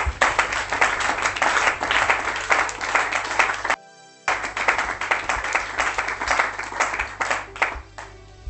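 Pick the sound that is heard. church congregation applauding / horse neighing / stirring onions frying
church congregation applauding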